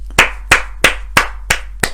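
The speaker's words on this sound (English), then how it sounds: "It's a resounding applause." Six sharp hand claps in steady rhythm, about one every third of a second, loud and close with a slight ring after each, alone with no talk.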